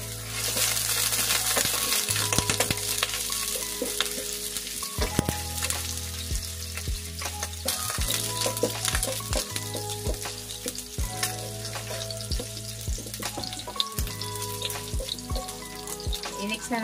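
Garlic frying in olive oil in a pan, a steady close sizzle with occasional stirring clinks and scrapes running throughout, no talk.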